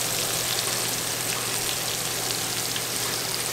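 Quail fries in hot oil with a dense, steady sizzle and crackle, close up and continuous, with no talking.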